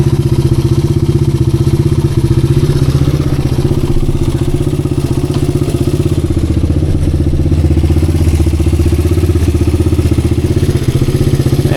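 A 1986 Honda XR200R dirt bike, its idle problem freshly fixed, runs loud and close while being ridden, its engine a steady unbroken drone with a rapid mechanical pulse and no voices.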